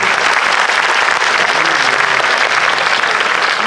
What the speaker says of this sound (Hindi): जोरदार ताली बजना चाहिए संगत।